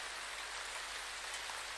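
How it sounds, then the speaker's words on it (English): Rain falling in a woodland animal cartoon, a steady dense hiss of drops on surfaces, even and unbroken throughout. "Oh dear, it's starting to rain."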